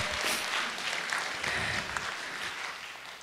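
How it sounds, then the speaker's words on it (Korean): Audience applause fills a church gathering honoring a couple married 57 years, a dense steady clapping that stays loud and even throughout with no pauses. "박수 주세요."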